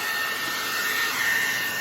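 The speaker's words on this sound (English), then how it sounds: "All right, so we got our blow dryer." A blow dryer runs on its heat setting while being used to fit Talon grips on a Kahr CM40 .40 caliber pistol, giving a steady, loud airy whoosh that stays even throughout.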